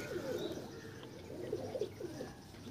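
Pigeons in a loft, including a female bird offered for sale, coo softly and repeatedly in low, rolling phrases, with faint chirps over a steady room background.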